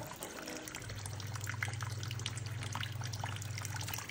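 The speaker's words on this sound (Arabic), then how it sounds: "الخطوة الثانية هنا نغسل السمك" Fresh fish rinsed under running water for a seafood dish, a soft, steady trickle and splash that runs throughout, fairly quiet and with no talk.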